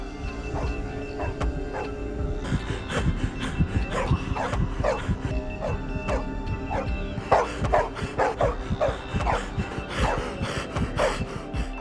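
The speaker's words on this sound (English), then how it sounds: "He woke up to the sound of dogs barking outside." Several dogs bark outside in a film scene, a rapid, repeated run of loud yaps that thickens toward the end, over a low ambient rumble.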